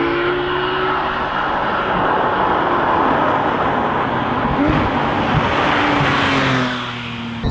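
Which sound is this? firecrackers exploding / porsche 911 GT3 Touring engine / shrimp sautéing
porsche 911 GT3 Touring engine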